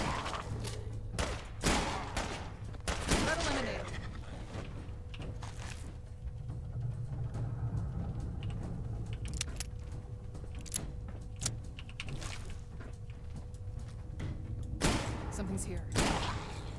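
Gunshots in the video game Fallout 4, several sharp, loud single reports spaced irregularly, with clusters near the start and end, over a low ambient background while someone talks.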